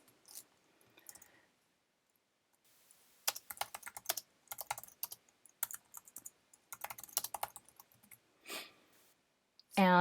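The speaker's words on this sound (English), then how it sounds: "after typing in the text" Typing on a computer keyboard, with quick irregular clusters of crisp key clicks, close and fairly quiet, broken by short pauses and a couple of louder isolated taps, with no speech.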